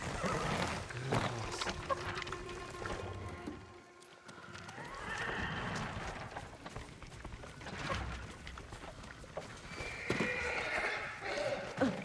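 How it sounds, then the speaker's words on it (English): Horses in the Ghost of Tsushima video game gallop with continuous hoofbeats, whinnying over a dense, busy game soundscape that stays loud throughout. "Follow those horses."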